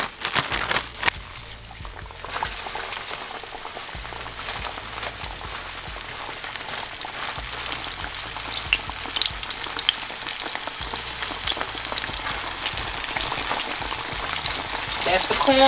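Turkey chops coated in batter fry in hot corn oil, a steady broadband sizzle and crackle that grows louder over the span, with a brief voice near the start.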